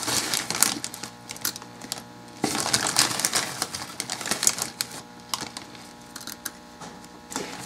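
Small pieces of dichroic glass are added and stirred, giving continuous close crunching, rattling and clinking with irregular sharp ticks, loud and busy throughout.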